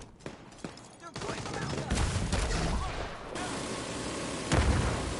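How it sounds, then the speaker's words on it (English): Gunfire and a grenade blast in the shooter video game The Division 2: a dense, loud fusillade of shots under talk, with a sharp burst near the start and a heavy explosion-like boom toward the end. "Grenade time!"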